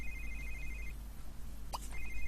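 An in-game phone rings with a quiet trilling electronic bell tone in two bursts, separated by a brief soft clatter, over a low background hum.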